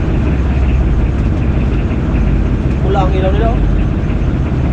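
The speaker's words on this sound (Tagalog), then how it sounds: "medyo maingay yung makina namin kasi hindi namin pwede patayin" A boat's engine runs nonstop and cannot be switched off, giving a loud, steady mechanical drone that fills the whole stretch while people talk over it.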